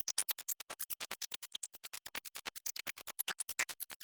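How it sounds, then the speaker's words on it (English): Synthesizer run through a pitch shifter and grain delay chain, producing a dense, textured stream of rapid gritty bursts in an even, fast rhythm, quiet and without any talking. "And then I have another track for shifter and grain delay, and that's giving us more of a textured sort of sound."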